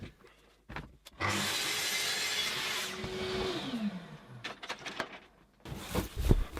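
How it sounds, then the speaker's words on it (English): Correx corrugated plastic sheet being trimmed 40mm off one end of a spray booth baseboard, a sustained harsh cutting noise lasting about two seconds after a few knocks, then scattered handling clatter. "I'm hastily trimming 40mm off one end of the base"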